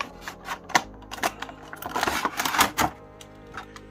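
Plastic blister packaging of a retro Marvel Legends Spider-Man 2099 action figure being cracked open, with a quick series of sharp crinkles, snaps and tearing clicks that cluster densely in the middle before easing off.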